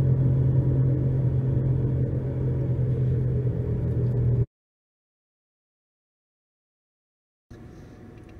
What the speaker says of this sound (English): This is floating at around 30, so I got a pretty significant amount of road noise there and vibration.